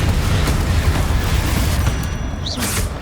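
A rumbling explosive spell blast from Hogwarts Legacy, with a dense low booming roar that carries the whole moment and a faint whooshing flourish near the end.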